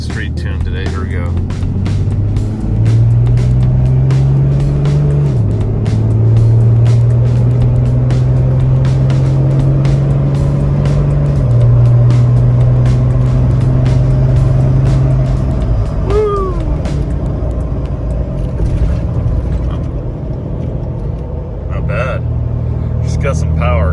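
A street-tuned vehicle on an interstate pulls at half throttle, its engine note rising in steady stepped surges under a constant road rumble, with someone talking over it.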